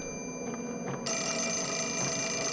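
Telephone ringing in the video game Fatal Frame: Mask of the Lunar Eclipse, a faint bell that swells into a bright, sustained electronic ring over quiet background tones.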